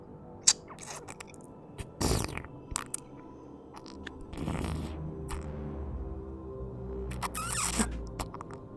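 Faint, wet squishing noises with soft clicks and rustles scattered over a quiet background, irregular and close.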